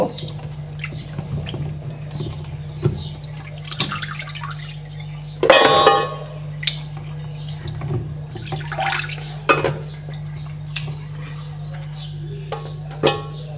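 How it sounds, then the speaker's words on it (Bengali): Meat being washed in water for nihari, with splashing, dripping and sloshing in a vessel up close, including one louder clattering splash, over a steady background hum. "ভালো করে ধুয়ে পরিষ্কার করে নেব"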